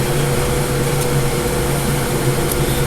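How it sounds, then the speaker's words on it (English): A sewing machine stitching fabric for a gown runs with a loud, continuous, even motor whir and hum, close by, with no pauses. "then I just run it through the sewing machine"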